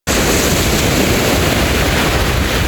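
Sea waves washing on the shore, a continuous loud broadband wash mixed with wind noise, no voices.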